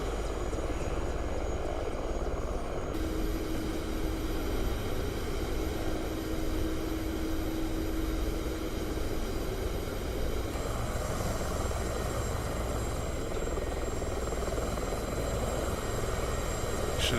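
A simulated aircraft just after takeoff in the video game DCS, with a steady engine drone and whine holding at an even level in the cockpit, alone and without talk.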